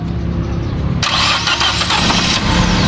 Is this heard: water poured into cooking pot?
no